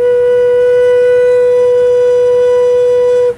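The bottom note of a handmade rivercane drone flute sounds as one loud, steady, pure tone held for over three seconds, then cut off.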